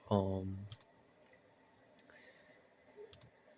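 A few sharp, isolated laptop trackpad clicks sound close by, spaced a second or so apart, following a brief voice at the start.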